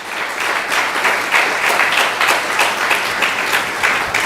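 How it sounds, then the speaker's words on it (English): Loud, sustained applause from an audience at a Sunday feast program, a dense steady wash of clapping hands filling the whole stretch with no voices over it. "Please give them a big round of applause."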